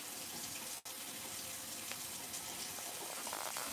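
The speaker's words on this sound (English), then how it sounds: "let's turn off the faucet" Water runs steadily from a kitchen faucet, a continuous close splashing rush into the sink with one brief dip partway through.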